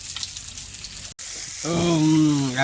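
Small fish fry with onion and green chili in a pan at an outdoor picnic among tea gardens and forest, giving a steady sizzle, and then a voice speaks over it near the end.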